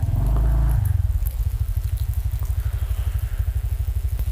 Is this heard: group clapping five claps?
no